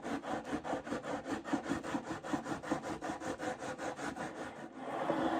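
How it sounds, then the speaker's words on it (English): Self-adhesive sandpaper on a level rubs back and forth across the frets of a 1949 Gibson L-7 guitar, making a steady, rhythmic rasping of about three strokes per second, close and moderately quiet, with no talk. "I'm just using a common level with some self-adhesive sandpaper to go back and forth to bring all of the frets back into level."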